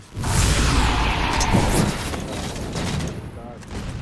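Halo 4 shotgun blasts in a multiplayer match, a loud burst of gunfire opening the clip then ringing and scattered shots with game effects layered over a sustained noisy backdrop.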